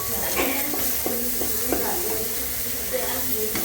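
Mushroom gravy goes into a pan and gets stirred, making a soft sizzle under a string of quick utensil scrapes and clinks near the start. A voice is heard over the cooking sounds.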